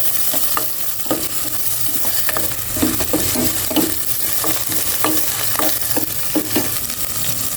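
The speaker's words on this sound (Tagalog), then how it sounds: "Okay, mainit na ang kasirulong may matika. Igisa ko na itong bawang." Garlic and onion sizzle in hot oil in a pot, a steady loud frying hiss punctuated by the clack of a utensil stirring against the pot, with no talking.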